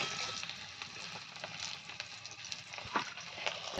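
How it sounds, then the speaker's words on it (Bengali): Potatoes and green banana kofta fry in hot oil, giving a steady close crackling sizzle throughout with scattered sharper pops and no talk. "এভাবে ভেজে নেবে লাল লাল করে"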